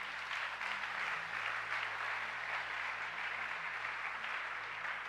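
Church congregation at a Sunday service applauding, a steady wash of many hands clapping continuously for several seconds, moderately distant and even in level, with no clear speech.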